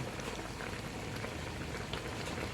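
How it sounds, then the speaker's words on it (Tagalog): A pot at a steady rolling boil, a dense continuous bubbling and hissing with no pauses, as a little vinegar goes in for a Filipino dish. "Dagdagan po natin ng kaunting suka."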